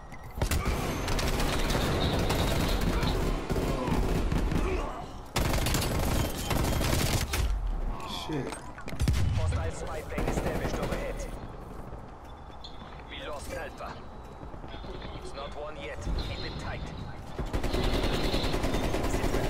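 Heavy automatic gunfire in Call of Duty Cold War, with a Stoner 63 in play, rattles in loud sustained bursts separated by short breaks, with occasional booms and mechanical clanks mixed in.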